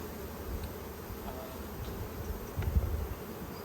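A hand-caught honeybee swarm hums around a hive box three days later, a steady soft buzz of many bees nearby with a few louder passes near the end.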